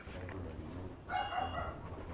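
A pet dog barks indoors, a short burst of yapping barks in the second half, moderately close, over a low background hum and faint talk.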